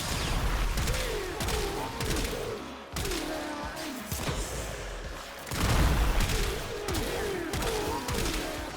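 Rapid weapon fire and impact bursts from enemies being shot in the video game Warframe, dense and continuous across several seconds, with layered booms and crashing effects under game music.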